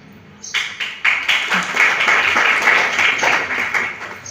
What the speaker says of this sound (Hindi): तुम टीकमगढ़ ताली मत बजाओ, मैदान में आओ, उतरो।